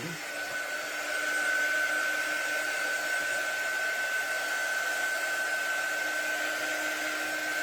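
A hair dryer blows steadily on a craft project, giving a constant whirring hiss with a thin high whine that holds at one level throughout, close and alone.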